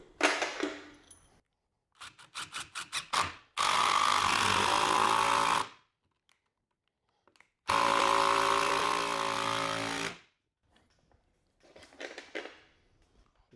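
A power drill drives long 5-inch screws into wood to mount a punching bag in a garage: two sustained loud whirring runs of about two seconds each, separated by pauses and clattering handling noises, close up.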